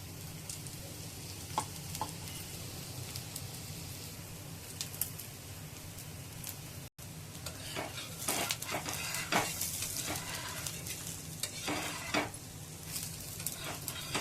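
A thin besan pancake fries in oil on a pan with a soft, continuous sizzle. Stirring and scraping clicks from a utensil join in over the second half.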